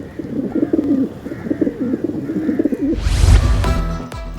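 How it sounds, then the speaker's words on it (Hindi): Pigeons coo repeatedly in a low, throaty rhythm, then a burst of fluttering and scuffling noise breaks in near the end. "जहां कबूतर दाने चुगते हैं"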